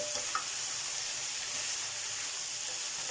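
Minced pork with pumpkin and herb leaves stir-frying in a hot pan, a continuous loud sizzle with faint stirring knocks throughout.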